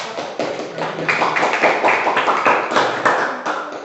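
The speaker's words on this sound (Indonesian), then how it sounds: "beri tepuk tangan untuk kelompok" Classroom applause for a student group presenting in class, several seconds of brisk, closely spaced hand claps near the listener, steady and fairly loud throughout.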